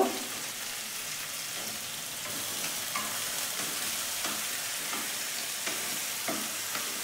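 Cashew paste thinned with a little water and green chilli paste sauté in a pan for malai begun, a soft steady sizzle with intermittent scraping stir strokes throughout, no voices.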